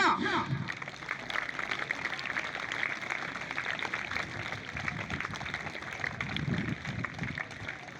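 Sustained audience clapping fills a school awards ceremony as a student comes up to receive a cash prize and certificate, a steady dense patter with a voice speaking faintly underneath.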